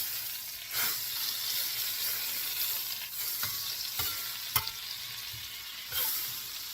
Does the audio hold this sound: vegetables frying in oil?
yes